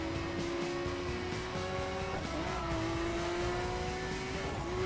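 Steady high-revving engine drone from a car boosting on nitrous in The Crew racing game, pitch climbing slightly, with a brief shift dip midway; continuous and loud, no talk.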